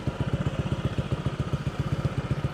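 Honda PCX160 scooter engine idling at rest during an oil flush, a steady low rapid putter with even pulsing firing beats, close and moderately loud, with no voices.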